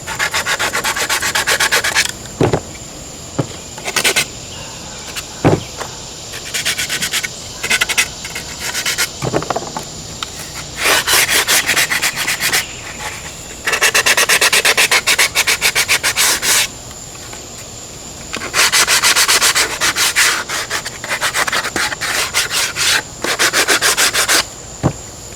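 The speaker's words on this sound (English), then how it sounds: "So I take a sanding block and I do some sanding of it." A sanding block rubs back and forth over the pylons of an RC airplane model in repeated scratchy bursts with short pauses between them, close and steady, no voices.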